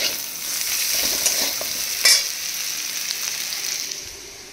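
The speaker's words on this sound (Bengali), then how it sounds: "পেঁয়াজটাকে ভেজে নিয়েছি।" Onions frying in oil with cumin seeds and green chillies in a wok, stirred with a utensil: soft steady sizzling with scraping strokes and one sharp clatter midway, fairly quiet and close, no voices.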